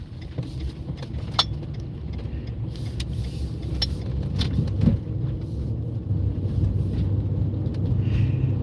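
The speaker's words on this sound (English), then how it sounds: "Oh, the gully cleaners." A gully cleaner truck rumbles past on the road, its low engine drone steady and moderately loud, with light clicks and whooshes over the top.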